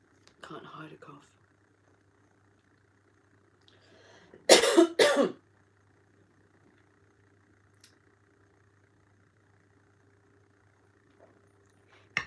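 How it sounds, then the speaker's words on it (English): A single sharp double cough rings out close by, preceded by a faint rustle and followed by near silence over a low engine hum. "Can't hide a cough."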